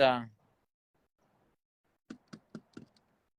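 Four crisp knocks rap on a door at a supposedly haunted location in Waterloo, Iowa, evenly spaced and fairly close, after a brief spoken voice and a quiet pause.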